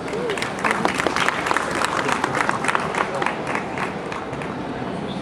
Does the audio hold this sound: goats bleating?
no